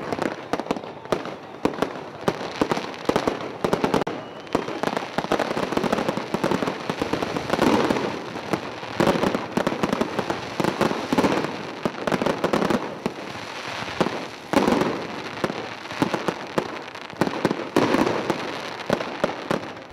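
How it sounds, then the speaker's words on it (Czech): New Year fireworks explode over a town, a dense, continuous barrage of cracks, bangs and crackles heard from a distance, rising and falling in rapid, overlapping bursts for the whole stretch. "Až po dopade balónov rozsvietil tmavú oblohu novoročný ohňostroj"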